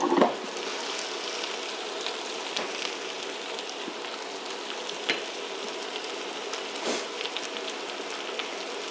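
Onions cook in a pan for an onion tarte tatin, a steady soft crackling sizzle that holds even throughout, with a few faint clicks and no talking.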